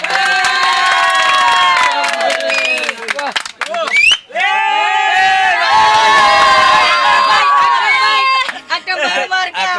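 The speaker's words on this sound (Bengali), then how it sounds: "সবাই একটা হাততালি হয়ে যাক" A lively crowd at the Gabtoli cattle market in Dhaka cheers and shouts loudly and continuously, with scattered clapping mixed into the excited voices.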